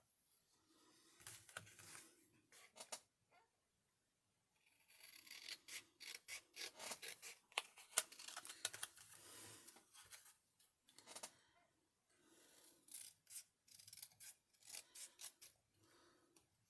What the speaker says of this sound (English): And then some scissors.